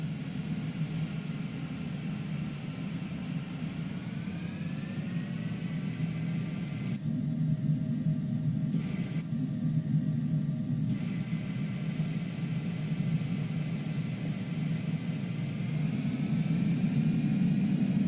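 Engine noise from a Cessna Longitude business jet with thrust reversers deployed in Microsoft Flight Simulator 2020 gives a steady, droning jet rumble throughout, with two brief dropouts midway and no talking.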